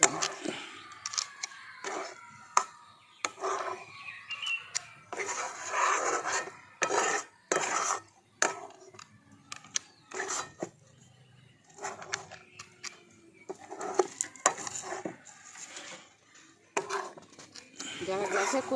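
Rice flour dough is stirred continuously in a pan on a low flame, making a busy run of rasping scrapes and rubs with brief pauses, while a voice talks over it.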